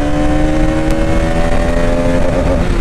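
A Bajaj Pulsar NS200 motorcycle engine is held hard under throttle in third gear, giving a loud, close, sustained rising whine with a buzzy exhaust rasp. No speech is heard.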